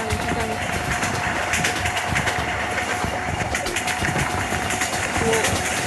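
Train engine in a Bangladeshi train video game, a steady loud mechanical drone with rhythmic rail clatter, while someone talks over it.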